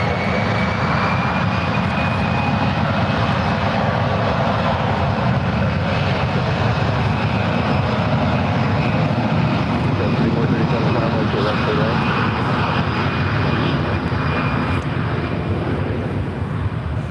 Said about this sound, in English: that is Alaska Airlines Flight 117 heading to Dallas, Texas. It's an A320